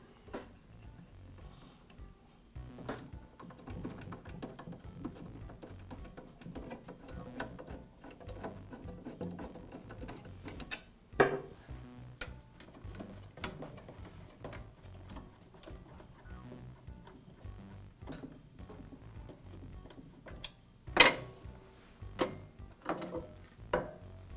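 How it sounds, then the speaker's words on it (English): Makita power planer's dust shroud being taken off by hand, heard as a string of small clicks, ticks and ratcheting plastic-and-metal snaps, close and fairly quiet, with a few sharper knocks standing out. "I'll begin by removing the dust shroud."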